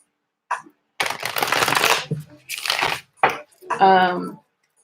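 Tarot cards are shuffled in loud, papery riffling bursts up close, several clustered flurries with brief pauses between, and a voice speaks briefly near the end.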